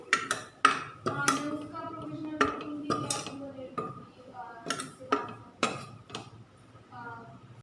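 A metal spoon stirs spice powders (coriander, red chilli and turmeric) in a pan for a black-eyed bean pod dish, giving a string of close, sharp clinks and scrapes in an uneven rhythm.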